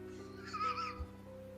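Horse whinnying once in a short, high, wavering neigh from a played video, moderately loud over a low steady hum, with a soft thump after it.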